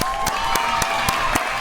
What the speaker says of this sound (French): Attendez un applaudissement pour tout le monde